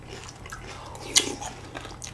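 A crispy banana-flavoured cereal snack in milk is bitten and chewed up close, with one sharp crunch in the middle and quieter chewing around it, no talking.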